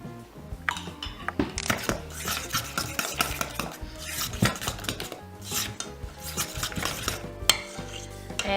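A spoon stirring cream cheese dip mixed with chutney or relish in a bowl, giving repeated close scraping and clinking taps in an uneven rhythm, with no talk.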